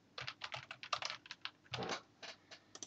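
A computer keyboard is tapped in a quick, uneven run of close, distinct keystrokes, with short gaps between clusters and no voice.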